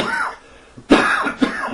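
A few harsh coughs and throat clearing, close by, in two short bursts separated by a brief pause.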